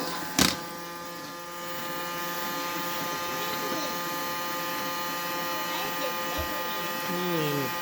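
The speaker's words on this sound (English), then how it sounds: "And you turn the vacuum on." A GuGio robot vacuum cleaner runs on a floor with loose debris, a steady close mechanical whir and hum after a sharp click at the start, holding constant throughout.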